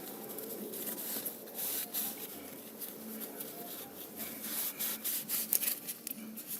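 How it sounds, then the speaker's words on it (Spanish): Oil filler cap from a Chevrolet Spark or Beat engine being wiped clean, a steady close rubbing and scrubbing texture with irregular bursts over several seconds. "vamos a limpiar el tapón del aceite"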